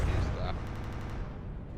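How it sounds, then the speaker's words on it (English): Gunfire in the naval combat game From The Depths comes through as a short glitchy burst, with a stuttering run of rapid, evenly spaced pops that cut off abruptly at moderate loudness. "Ooh, that was a bit of a sound glitch."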